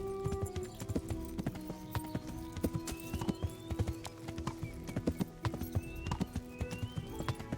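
Horse hooves clip-clop at a steady walking pace in the medieval RPG Kingdom Come: Deliverance, with occasional whinnies over a busy ambient game background at moderate loudness.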